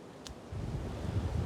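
Low, blustery wind buffets the microphone on a windy outcrop on a Scottish isle, a rumbling gust that thickens after a moment, with no one speaking.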